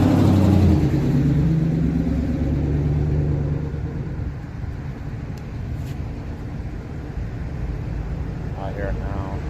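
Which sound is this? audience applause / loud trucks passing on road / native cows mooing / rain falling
loud trucks passing on road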